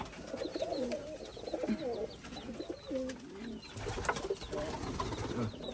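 Rajshahi Giribaj pigeons coo in repeated soft rolling phrases, several birds overlapping at close range over a faint background hiss, with a few brief rustles.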